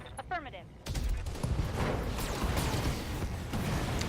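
Heavy mech weapons firing during a BattleTech convoy mission: a sustained dense barrage of rapid impacts and blasts after a brief radio-style voice, loud and continuous to the end.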